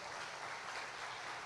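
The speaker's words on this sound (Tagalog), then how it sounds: "Mahina ang palakpak natin." Congregation applause during a Filipino Christian healing sermon, a short, even burst of many hands clapping, moderately soft and steady with no voices over it.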